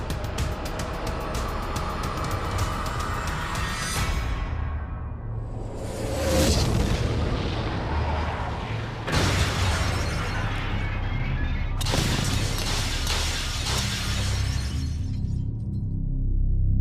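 A jai-alai ball smashing through thick tempered glass, several loud crashing shatters with a long spray of breaking fragments and sharp bursts near 6, 9 and 12 seconds, close and dominant.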